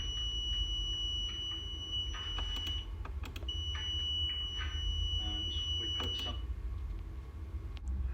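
Multimeter continuity tester beeping while probing a motor, two sustained steady electronic tones each lasting about two to three seconds, separated by a short gap, over a low background hum and light handling clicks.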